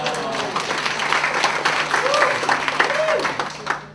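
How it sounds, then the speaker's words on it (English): A comedy club audience applauds in a steady, dense patter for about four seconds, with a few voices calling out over the clapping. "Not sure why you're applauding."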